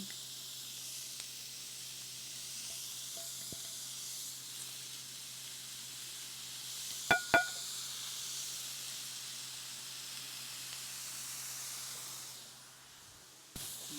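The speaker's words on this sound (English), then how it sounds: "I'm going to add my burgers seasoned side down" Seasoned burger patties hiss and sizzle on a hot grill, a steady quiet sizzle with a couple of brief clicks partway through before it fades near the end.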